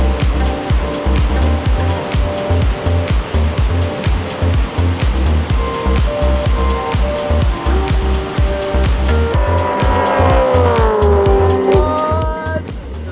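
Race cars lap Sydney Motorsport Park at Eastern Creek, with a loud, continuous engine roar, rapid gear-change pulses and a car sweeping past near the end as its pitch drops.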